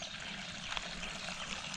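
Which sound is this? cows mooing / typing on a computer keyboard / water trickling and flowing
water trickling and flowing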